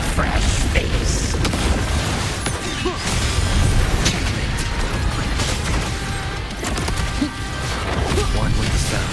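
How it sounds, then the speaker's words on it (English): A mortar explosion in the Wuthering Waves video game thuds and crashes loudly amid a dense, continuous din of battle effects and music, with a voice speaking over the mix. "Another mortar thrown at us."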